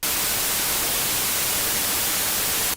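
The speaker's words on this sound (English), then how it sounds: "We are creating noise at all frequencies" White noise fills every frequency as a flat, even hiss that starts abruptly, holds steady and loud for a few seconds, then cuts off.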